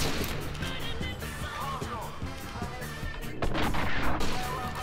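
Gunfire in the video game Call of Duty: Modern Warfare 2 rings out in several sharp cracks over a busy in-game soundscape, and a louder burst near the end.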